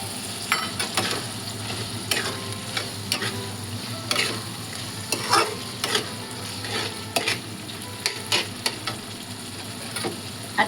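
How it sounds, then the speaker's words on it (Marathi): Chicken liver cooking in a Konkani-style masala gravy in a pan, a low continuous sizzle broken by frequent scraping and tapping spoon strokes, close and steady. "आता मी कलेजी टाकते."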